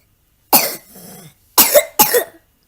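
A three-year-old boy gives a sharp cough, then a softer wheezy breath, followed by two more close, loud coughs in quick succession.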